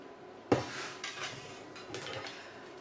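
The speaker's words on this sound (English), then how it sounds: "Place them on the tray, cut sides down." Biscotti slices are set cut side down on a lined baking tray, starting with a sharp clink and followed by softer scrapes and light taps as more slices go down.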